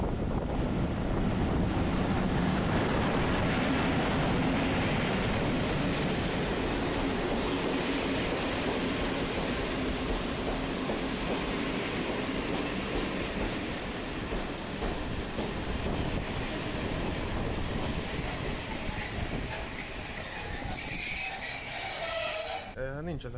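Passenger railway carriage on a long Hungarian route around Lake Balaton, heard from inside as a steady, loud rolling rumble with wind-like rush and a sharp wheel squeal rising near the end; no voices.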